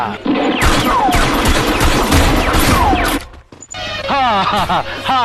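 Rapid pistol gunfire in a dramatic scene: a dense burst of loud, close shots fills the first three seconds, then stops abruptly and agitated voices take over.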